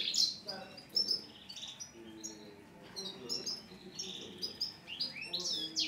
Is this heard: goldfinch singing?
yes